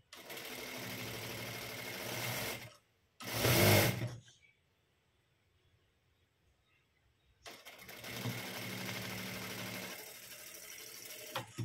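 A sewing machine stitches a blouse in two long, steady whirring runs, broken by a louder short burst and a quiet pause. It sounds close and mechanical, with no voices.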